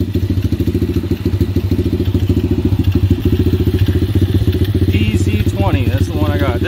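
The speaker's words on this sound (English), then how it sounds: "when you just first start it, you try to blip it. It's gonna do that, but it's not warmed up yet" A cold 125cc pit bike with a PZ-20 carburetor putters roughly up close, its uneven rapid exhaust pulses stumbling rather than revving freely, with a voice briefly heard near the end.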